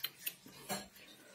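A deep fryer's thermostatic temperature sensor clicks near 70 degrees on a fryer that will not switch on: a few sharp, close clicks and light ticks spread over about a second, with quiet background between them.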